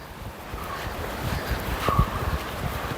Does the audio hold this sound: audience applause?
no